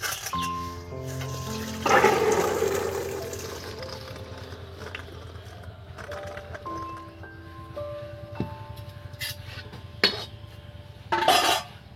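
Boiled chickpeas and their cooking water are tipped out of a pot, a close burst of pouring and splashing followed by clanks of metal cookware and clinking utensils, with another short gush near the end.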